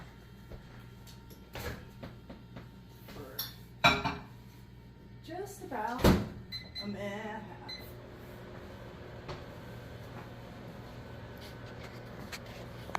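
A dish holding bison skirt steak and potato waffle with dill mayo gravy clatters into a microwave, followed by a clunk as the door shuts, set among scattered kitchen knocks and faint background noise.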